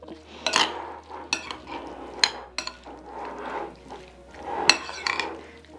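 A utensil stirs cucumber with sesame oil and shoyu in a bowl for tuna poke, giving irregular scraping and clinking taps against the dish with a few sharper knocks, close and fairly loud, with no talking.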